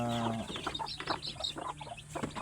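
A native chicken hen clucks several times in a quick, uneven run, close and fairly clear over a faint low background hum.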